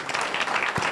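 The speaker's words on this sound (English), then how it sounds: "Please give yourself a round of applause." Conference participants at a mock climate summit applaud in a brief, steady burst of clapping that fills the room, lasting under a second.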